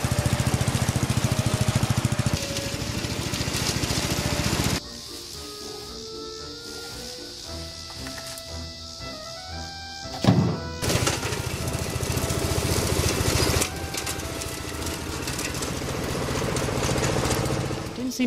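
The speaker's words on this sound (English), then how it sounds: "I'm just gonna mow this real quick, this full section" A ride-on lawn mower engine runs loudly and steadily while cutting a section of yard grass, its drone shifting in pitch and load partway through, with a brief knock near the middle.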